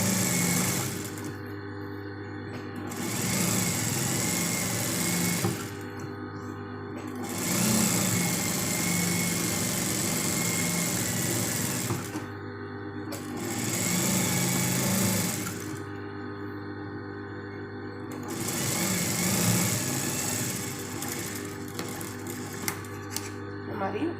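A sewing machine running an edge stitch along a blouse, its rapid mechanical whir coming in several long bursts separated by short pauses, with a person talking throughout.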